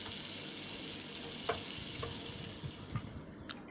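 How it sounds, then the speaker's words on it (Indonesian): Steady hissing sizzle of red chilies, tomato, garlic and shallots frying in a pan, with a few light clinks of utensils, continuous and close. "Lalu kita goreng."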